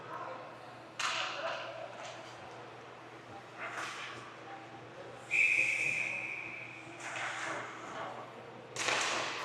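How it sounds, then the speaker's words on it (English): A referee's whistle at a 16U AAA ice hockey game stops play for icing. It gives one short, bright blast among the echoing arena noise, with skate scrapes and puck thuds nearby. "So we get a whistle"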